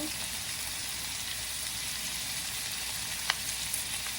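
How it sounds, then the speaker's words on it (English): Cabbage frying in a pan for an Asian-style stir fry gives off a steady close sizzle and hiss, with one sharp clink near the end and no talking. "So now I think it's time to put all the cabbage."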